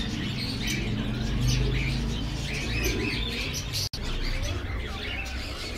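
Caged birds at an outdoor Sunday bird market on Kasi Road in Quetta chirp and coo continuously, a dense chorus of overlapping tweets close by, with no one talking.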